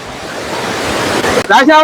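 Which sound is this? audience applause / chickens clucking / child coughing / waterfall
waterfall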